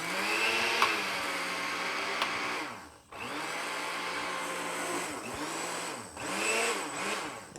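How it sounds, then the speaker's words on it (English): A kitchen blender chops dry soda bread ingredients in loud, steady whirring bursts, briefly cut off and restarted twice as it is pulsed, with no talk. "Put the lid on the blender. And we're just going to blend."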